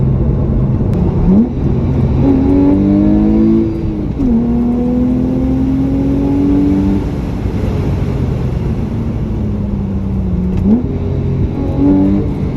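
A sports car with an aftermarket exhaust accelerates while driving, its engine note rising and falling through several long smooth revs and gear changes, loud and close with no talking.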